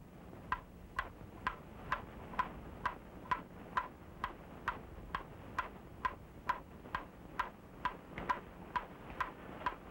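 A homemade sound-effect box imitates a wall clock's tick-tock: an even, steady ticking of about two beats per second, close and clear, with nothing else over it.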